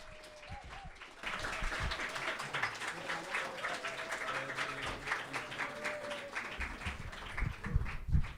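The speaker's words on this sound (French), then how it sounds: "Je vais vous demander un véritable tonnerre d'applaudissements pour Monsieur 13" An audience applauds a performer named Monsieur 13 with steady, dense clapping that rises and holds for several seconds, with a few louder claps near the end.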